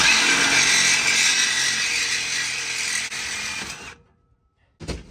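Sawzall reciprocating saw cutting a part beneath the hood of a 6.0L Powerstroke truck: a loud, steady rasping buzz runs for about four seconds, then stops, and a short burst follows near the end.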